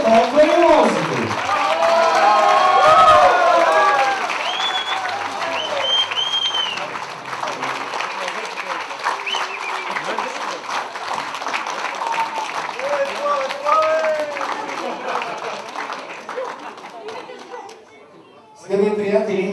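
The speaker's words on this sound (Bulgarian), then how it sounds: "Още по-силни аплодисменти за Славчо и Свети!" Guests at a wedding reception for Slavcho and Tsveti clap steadily in a long, loud round of applause mixed with crowd chatter, tapering off near the end before a brief burst returns.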